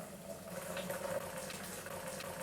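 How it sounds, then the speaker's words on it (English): Boiling hot water poured into the bottom of a home-brewing pot for a red IPA extract brew, a continuous splashing pour that runs steadily throughout at close range. "I'm going to pour some boiling hot water in the bottom here."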